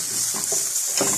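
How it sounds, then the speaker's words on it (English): Minced garlic sizzles in hot oil in a pan for a meatball stew, a steady close frying hiss with a few soft stirring scrapes. "So to our hot oil, we add in some garlic"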